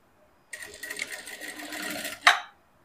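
A sewing machine stitches fabric for a deep plunging bustier neckline in a short, fast, steady run of stitching, louder toward the end with a final burst, then stops and leaves quiet.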